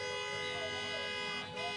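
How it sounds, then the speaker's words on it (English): Loud, sustained car horns blare during a high school senior celebration car procession over a busy, noisy background, with one brief dip in the middle. "We've got a lot of exciting honks happening here."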